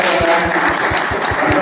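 Audience applause at a teachers' training closing ceremony, a steady wash of many hands clapping close by, loud and continuous throughout with no voices over it.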